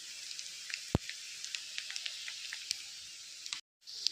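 Patrode, colocasia leaf rolls, fry in a pan with a steady bright sizzle and scattered small pops and crackles, close and alone with no talk.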